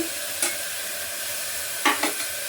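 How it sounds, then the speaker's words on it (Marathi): Chopped onion and tomato fry in a kadhai with a continuous close hiss, broken by three metallic spatula scrapes and clinks, one early and two near the two-second mark. "हे 2 टमाटे कापून ठेवले, चॉपरला बारीक केले, यातला अर्धा भाग इथे टाकून देते"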